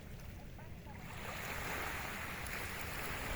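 Sea waves at Baler wash in with a steady, broad hiss of surf that swells louder midway, with some wind noise on the microphone.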